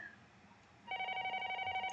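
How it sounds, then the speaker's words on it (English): A telephone rings in a Japanese suspense TV drama, starting sharply after a quiet moment and then ringing in a steady, bright, buzzing trill that fills the rest of the moment. "And the phone is ringing."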